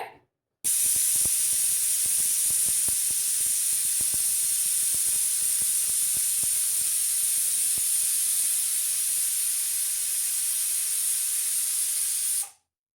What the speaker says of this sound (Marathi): आणि आता मीडियम गॅसवर आपल्याला कुकरला 2 शिट्ट्या करून घ्यायच्या आहेत.